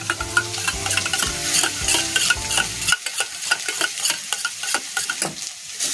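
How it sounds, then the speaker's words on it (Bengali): Yogurt is whisked briskly in a bowl, making a rapid, continuous clicking and scraping of the whisk against the sides with a wet churning texture, loud and close, with a deeper rumble during the first half. "দইটা এখন আমি খুব ভালো করে ফেটিয়ে নেব"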